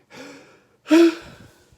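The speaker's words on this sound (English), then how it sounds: "She took a deep breath." A deep breath drawn in and let out, close and alone, with a brief soft inhale followed by a louder, fuller breath.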